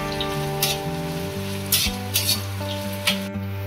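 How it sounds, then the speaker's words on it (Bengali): Onions sizzle in hot oil in a pan, a steady crackling fry broken by a few sharp spatula scrapes and clinks, with a sustained tonal hum running underneath throughout. "এর মধ্যে আমি পেঁয়াজগুলো দিয়ে দেবো। পেঁয়াজটা আমি 2 মিনিটের মতো নাড়াচাড়া করে নেবো।"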